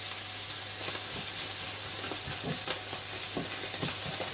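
Sliced chorizo frying with onions in a pan, a steady close sizzle with crackling pops and occasional stirring scrapes throughout.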